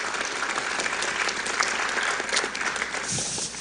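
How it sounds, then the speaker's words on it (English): Steady, dense applause from a church ministry gathering, sustained and fairly loud throughout with no break. "I want you all to give them a round of applause"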